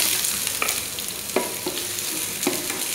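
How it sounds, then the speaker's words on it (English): Carrots and other vegetables fry in hot oil for a Chinese-style sauce, a steady close sizzle with a few scraping stirs of a utensil against the pan. "Yan, i-fry natin konti."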